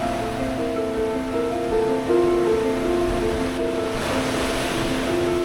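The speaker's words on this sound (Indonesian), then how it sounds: "Garis ombak datang, lalu kembali lagi seperti semula." Sea waves roll onto Torohudan beach in Jogja, a small cove between rocky cliffs. The surf is a continuous, fairly loud wash with a steady hum running beneath it.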